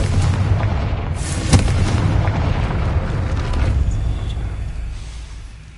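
Confringo fire spell from Hogwarts Legacy, a continuous rumbling blast with a sharp burst near the middle, sustained and loud, tailing off toward the end.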